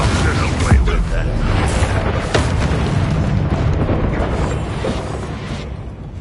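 Confringo blasting spell going off in the Hogwarts Legacy video game on PS5, a booming burst amid dense, continuous combat noise and low rumble, with several sharp impacts over six seconds.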